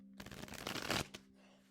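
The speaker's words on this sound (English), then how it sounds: "I'm just saying that one more shuffle. I'm being guided" A deck of tarot cards is riffle-shuffled close by in one quick, dense burst of flapping card noise lasting about a second, ending with a soft tap as the deck settles.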